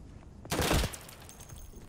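Dense gunfire in the World War II shooter Day of Infamy, a sudden loud burst of overlapping shots and explosions that swells, then thins into scattered distant fire before another shot at the end.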